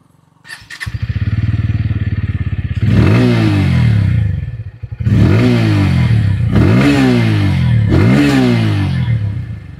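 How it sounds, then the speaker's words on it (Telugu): A Bajaj Pulsar N160 single-seat USD model motorcycle idles, then revs hard four times. Each throttle blip rises and falls sharply through the engine and exhaust, loud and close, with no talking. "ఒకసారి exhaust note and engine sound అయితే వినండి"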